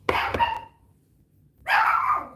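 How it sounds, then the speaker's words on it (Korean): A dog barks a couple of sharp times up close, falls quiet, then lets out a longer, whining bark-like cry. "제 강아지가 짖네요"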